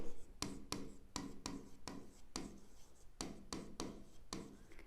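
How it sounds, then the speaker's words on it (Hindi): A pen scratches across paper in a commerce accounting lesson, quiet close strokes in short repeated bursts with brief pauses between words. "आओ लिख देते हैं"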